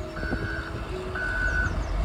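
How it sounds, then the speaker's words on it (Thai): Reversing beeps from a snowplow truck, two long steady electronic tones with a gap between them, moderately close over low engine rumble outdoors in a snowy town. "นี่ไงเป็นรถเกียร์หิมะนะคะ อยู่ในเมืองปกติใช่ไหมก็จะเป็นรถกวาดถนนแต่ที่นี่จะเป็นรถกวาดหิมะ"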